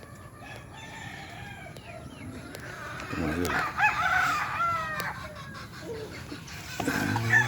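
A rooster crows repeatedly while hens cluck nearby, with a voice speaking briefly over the farmyard noise.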